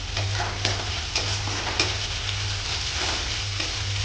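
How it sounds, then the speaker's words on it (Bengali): Ginger paste fries in a pan with garlic while a spoon stirs it, making a steady, moderate sizzle broken by regular light scrapes and taps of the spoon against the pan. "এভাবে আদা বাটাটা দিয়েও আরও 1 মিনিটের মতো নেড়ে চেড়ে নেব।"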